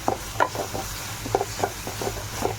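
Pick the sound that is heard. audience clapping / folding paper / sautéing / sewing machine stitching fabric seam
sautéing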